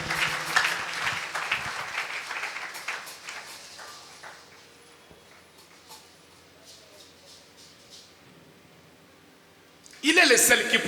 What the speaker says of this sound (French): Acclamons très fort pour les Tobeti Seigneurs